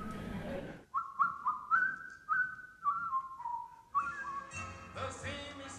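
A champion female whistler performs a clear, sustained tune of held and gliding notes, loud and close, with a short burst of noise before it starts and brief noise at the end.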